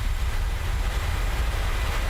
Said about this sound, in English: Takeoff roll has started.